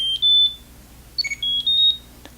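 A Nokia Treasure Tag key tracker emits a pattern of shrill electronic beeps, two clusters of short high tones close by in a quiet room.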